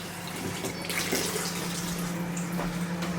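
Tap water running steadily into a coffee maker's water reservoir for a vinegar-and-water descaling rinse, a continuous close splashing stream with no talk over it.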